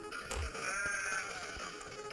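A sheep in a video game bleats in a drawn-out, wavering call, moderately close, with a faint background hum and a few soft thumps.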